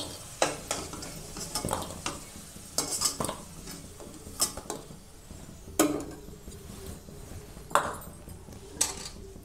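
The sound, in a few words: frying and stirring potatoes in pan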